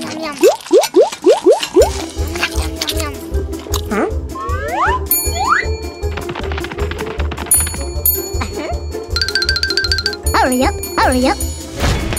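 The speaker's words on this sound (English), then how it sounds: "ringing the bell too much is also an impolite action" Bright bell chimes ring repeatedly amid playful cartoonish effects and tinkling tones, loud and busy, with a voice speaking between them.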